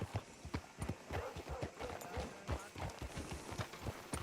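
Rhythmic horse hoofbeats clip-clop at a steady trot in the video game Red Dead Redemption 2, moderately close, with faint background ambience behind them.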